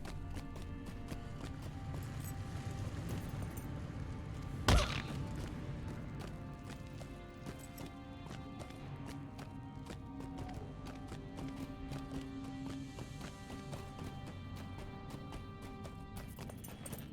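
Steady hoofbeats from a goat mount trotting in the LOTRO fantasy game, a continuous clip-clop under game music and ambience, with one brief louder thump partway through.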